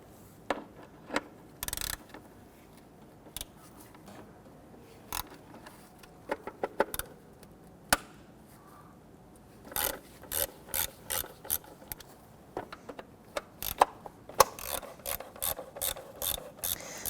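Ratchet wrench backing out 10mm bolts on the upper timing cover of a 1992-1996 Toyota Camry 2.2L four-cylinder, heard as bursts of rapid clicking pawl strokes, close and clear, with no talking.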